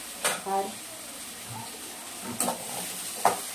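Tomatoes and green chilies sautéing in a pan, a faint sizzle in a quiet kitchen broken by a few short scraping stirs and utensil clinks.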